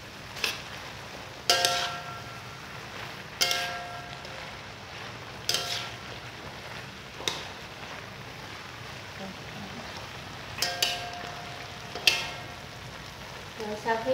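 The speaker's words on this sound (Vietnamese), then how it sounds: "Các bạn xào cho nó tăng cái phần dưa leo này lại rồi." Squid stir-fried with cucumber and tomato in a sweet-and-sour pan dish gives a steady close sizzle and fry hiss, punctuated every couple of seconds by sharp metallic clacks of a utensil striking the pan; no one talks.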